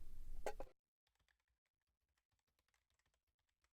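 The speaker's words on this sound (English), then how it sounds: "With eager fingers you begin to type the foundation of your web page." Faint, soft clicks of typing on a computer keyboard while writing HTML in a text editor, preceded by a brief louder sound.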